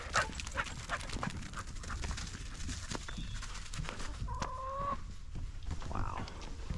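Dogs are out in a yard near a chicken coop, with faint barking and scuffling while hens cluck in the background; a low outdoor bed of noise runs steadily throughout.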